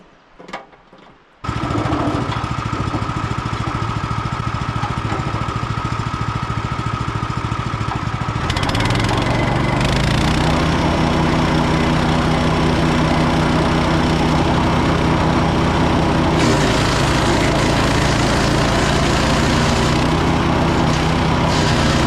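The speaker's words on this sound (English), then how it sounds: "I'm going to start by putting a couple of twigs in there, seeing how far it shoots it, and then seeing if I have to move the chipper" A Jansen GTS-1500e wood chipper starts up after brief quiet and runs loud and steady close by, its engine note rising and shifting as twigs are fed in and chipped, with no talk.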